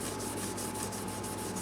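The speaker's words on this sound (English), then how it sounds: "Now I've got the gray Scotch Brite pad." A gray Scotch-Brite pad rubs back and forth over the finish of a Guild Starfire guitar neck, a close, steady rhythmic scrubbing of about ten even strokes.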